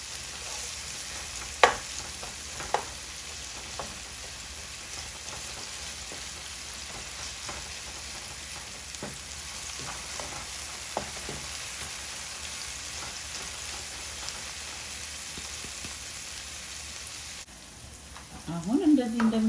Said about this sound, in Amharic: በጎን እያበሰልኩ ነው ቲማቲምና ሽንኩርቴን።